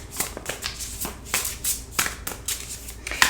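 Tarot cards are shuffled by hand in quick, repeated riffling bursts with soft taps between them, close and clear with no talking.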